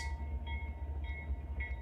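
Freight train hauled by GE locomotives, including rare H2 Gevo units, passing trackside as a continuous low rumble with steady wheel and rail noise and a faint tonal ring.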